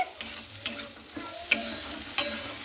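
Malabar spinach leaves stirred in a pan with fish oil, a steady soft sizzle of frying broken by sharp scraping spatula strokes about every half second, close and moderately loud, no voices.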